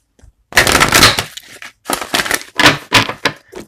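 Rapid riffling and slapping of tarot cards being shuffled in quick bursts, close by, with brief pauses between shuffles and no talking.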